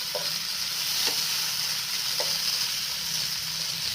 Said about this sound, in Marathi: एक बारीक चिरलेला कांदा टाकायचा तेलामध्ये। कांदा छान ब्राऊन होऊन द्यायचा।